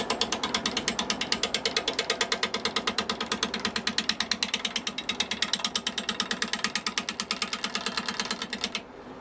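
A wood lathe spins a punky pine bowl blank, giving a fast, even, rhythmic clatter that repeats steadily throughout before cutting out abruptly at the end.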